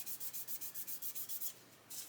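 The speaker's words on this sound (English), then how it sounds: "take my new sanding stick and just sand this area where that ejector pin mark was" A sanding stick rubs over a plastic model chassis to smooth an ejector pin mark, giving about a dozen quick, even back-and-forth scratchy strokes close up, followed by a short pause and one final stroke.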